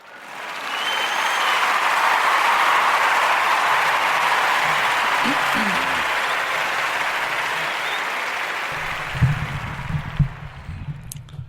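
A round of applause from a studio audience, swelling quickly into a steady loud wash of clapping and then fading out near the end as low voices and thumps begin.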